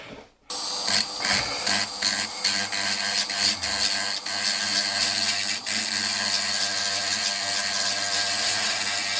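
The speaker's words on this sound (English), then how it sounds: "So anyways, I'm gonna take this little sander," Small handheld sander smoothing tool marks on the stone around a fossil Diplomystus birdi fish, starting abruptly and then running as a loud, steady, close buzzing whir with a few brief dips as it meets the surface.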